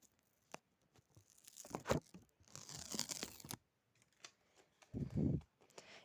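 Close, crisp tearing and crinkling of a sticker peeled off plastic packaging, in a few rough bursts with brief rustles between.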